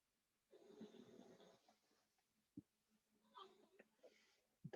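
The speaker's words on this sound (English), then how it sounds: "That's my dog snoring" A dog snores softly during a quiet indoor moment, a faint breathy rasp lasting about a second, followed by a few small scattered clicks and snorts.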